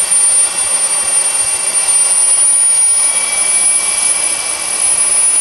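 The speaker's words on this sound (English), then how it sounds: "the electric motor is still spooling it around until we get up to a self-sustained RPM" Kerosene turbine engine of a radio-controlled helicopter spooling up toward idle: a loud, steady, high-pitched jet whine with a thin piercing tone riding on top, unbroken and close, with no voices.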